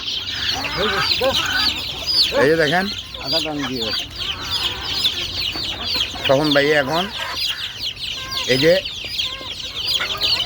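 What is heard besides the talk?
hens clucking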